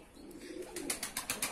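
Pigeons coo in a loft where a few stray birds have joined the flock, soft repeated throaty pulses close by and growing a little louder, with light rustling.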